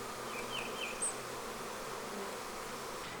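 Bees buzz steadily around a hive in a dense, close hum, with a few individual insects whining past.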